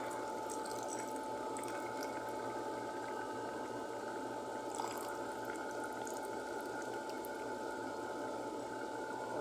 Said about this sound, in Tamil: கரைச்சி வச்ச புளியை ஊற்றிக்கலாம்